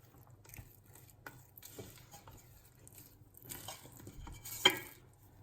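A spatula scrapes and stirs gently inside a pot of bread dough ingredients, faint soft clinks and scrapes in an irregular rhythm, quiet and close.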